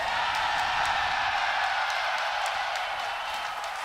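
Team Liquid fans cheer in a packed arena at The International 2017 Dota 2 tournament, a steady, dense crowd roar with scattered whoops and claps that holds at a constant level throughout.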